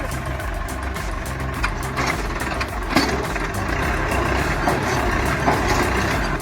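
A Massey Ferguson tractor's diesel engine idles nearby with a steady, even rumble and a faint clattering, heard alone throughout.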